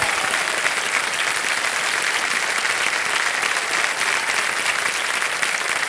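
A studio audience on a television quiz show claps steadily and loudly, a dense, even wash of applause that holds without a break from start to finish.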